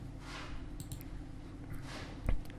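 A computer mouse gives a quick double click, a pair of faint, sharp ticks close together near the end of a quiet stretch of low room hum, with another soft click pair earlier.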